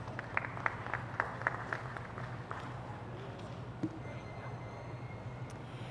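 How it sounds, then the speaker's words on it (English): A small audience claps in scattered, rhythmic bursts at a county 4-H swine show, the applause thinning out after a few seconds over a steady low hum in the show barn. "Let's give those exhibitors a round of applause."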